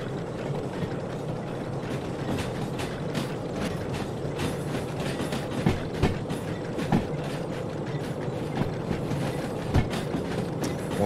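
A train in the railway simulation game Derail Valley rolls over uneven, wobbly track, giving a steady loud rumble with rapid irregular clicks and clacks from the wheels and rails throughout, with no talking.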